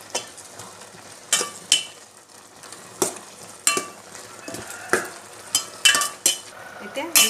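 Coriander leaves stirred into a pan of cooked vegetables, with regular spoon scrapes and clinks against the pan about every half second over a soft background sizzle.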